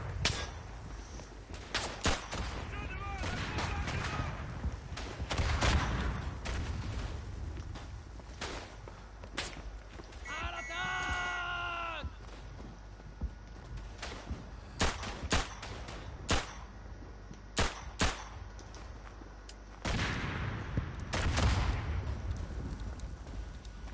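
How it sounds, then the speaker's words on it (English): Scattered sharp gunshots and dull mortar impacts from the World War I shooter Verdun, irregular bursts near and far mixed with shuffling movement, plus a brief chirping whistle partway through. "Hope that no my mortars coming in on top of me."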